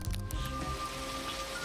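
Steady heavy rain pours during a night rooftop scene in Blade Runner, a broad continuous wash mixed with a low music bed and faint sustained tones.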